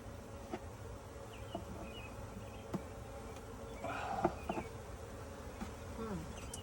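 Honey bees buzz faintly around an open nucleus package during installation outdoors, a soft continuous drone with a few louder passing buzzes near the middle, no talk.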